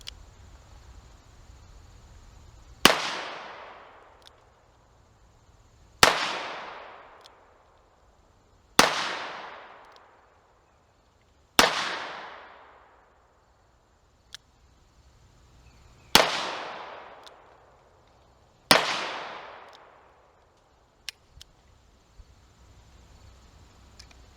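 Rossi 971 revolver with a ported 6-inch barrel firing .38 Special, seven sharp, loud gunshots spaced a few seconds apart, each with a quick decaying echo, no talk.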